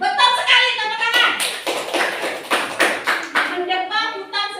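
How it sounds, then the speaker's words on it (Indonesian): Schoolchildren in a classroom clap their hands together in quick, uneven bursts, loud and close, while a voice speaks before and after the clapping. "tepuk tangan"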